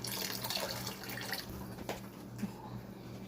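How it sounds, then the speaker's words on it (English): Water is poured into a pot of Nigerian cabbage shrimp fried rice, making a soft, continuous splashing trickle for about three seconds, fairly quiet and close, with no one speaking. "I'll add some more water"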